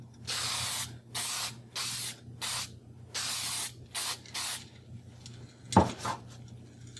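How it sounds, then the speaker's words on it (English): Repeated bursts of aerosol spray hiss in short pulses during a wood gouge repair, close and steady, followed by a clatter as the can is set down. "always spray, make sure it's spraying well, and here's the spray"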